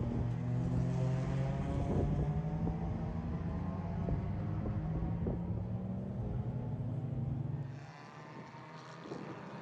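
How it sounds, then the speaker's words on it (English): Race cars at an endurance race at COTA (Circuit of the Americas) give a steady, loud engine roar that runs continuously for most of the stretch, then drops to a lower, quieter level near the end. "I hear the cars."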